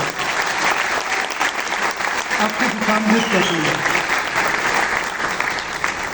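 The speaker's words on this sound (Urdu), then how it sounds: "تو یہ تالی بہت کم تھی, کھل کے بجائیں" Sustained audience applause at the Yaad e Salamat 2024 music tribute, clapping in honor of a singer. It is dense and continuous throughout, with someone speaking over it.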